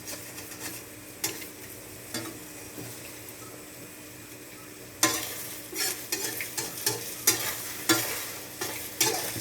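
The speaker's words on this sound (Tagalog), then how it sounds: "I-mix ko na tong scrambled egg ko" Scrambled egg with tomato and dried fish gets stirred in a sizzling pan, the spatula scraping and knocking in irregular bursts over a steady frying hiss that grows busier and louder midway.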